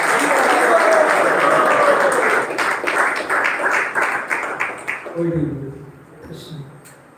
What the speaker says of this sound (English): let us all welcome Prabhuji to our ISKCON Sheshadipuram Chaitanya Festival Series 4 with a big round of applause.